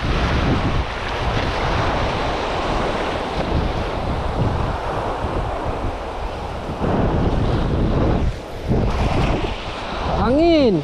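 Strong wind roars steadily on a shore where shrimp are being cast-netted, mixed with crashing surf, buffeting the microphone loudly and continuously throughout.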